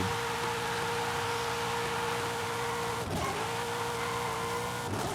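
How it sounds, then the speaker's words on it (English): A BMW M2 fitted with an LS V8 engine, a six-speed Formula Drift car in Forza Horizon 5, holds a steady, loud engine drone with a brief dip near the end as it drives on. "Let's do my BMW here, this M2 with an LS."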